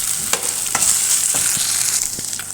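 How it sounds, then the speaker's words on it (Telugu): Chicken cut into small pieces frying in a pan with onions and ginger-garlic paste, a steady close sizzle with several sharp stirring scrapes spaced through it, no voices. "చికెను ఇలా చిన్న చిన్న పీసెస్ కింద చేసుకున్న చికెన్ ఇందులో వేసేసుకున్నాం"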